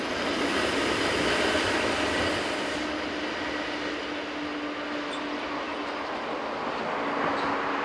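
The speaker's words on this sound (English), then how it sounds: "This one arrives with 1970 built Class 425 number 167 powering at the rear." Golden Pass train arriving with a 1970-built Class 425 electric locomotive pushing at the rear, heard as a steady, loud rolling rumble of wheels and motors that holds evenly throughout, with no voices.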